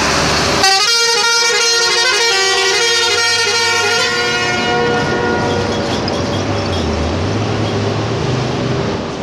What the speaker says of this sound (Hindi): चलो हॉर्न मारो।